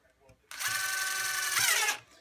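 DeWalt DCF887 impact driver running at speed 2 while driving a screw into stacked pine boards: a loud, steady high-pitched whine lasting about a second and a half that rises slightly near the end before stopping abruptly.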